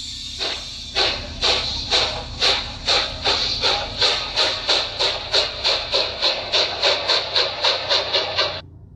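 Toy train running with rapid, evenly spaced steam-like hissing chuffs, about twenty puffs in a steady rhythm over a low mechanical hum, stopping abruptly near the end.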